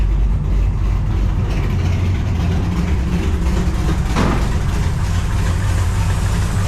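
A 1955 Chevy engine idling with a temporary exhaust fitted, a steady loud low rumble close by that runs continuously throughout, alone without any talk.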